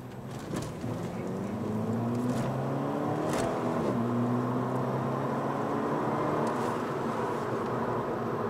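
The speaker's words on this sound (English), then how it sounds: "Really impressed by the acceleration." A 2018 Volkswagen Scirocco 2.0 TSI accelerates, its engine note climbing steadily through the gears from inside the cabin, a constant hum under road noise with no talk.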